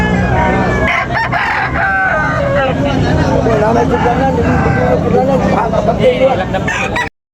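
Roosters crow repeatedly at a busy chicken market in Tabunok, Cebu, their calls rising over steady crowd babble and a vendor talking throughout, loud and close with traffic noise underneath.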